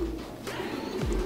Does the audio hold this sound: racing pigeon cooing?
yes